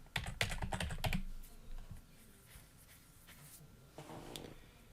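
Typing on a computer keyboard, a quick run of close key clicks at the start, then scattered keystrokes and a short final burst, with no talk.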